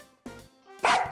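A dog gives a single loud, sharp bark after a brief tonal whimper-like sound, close and alone.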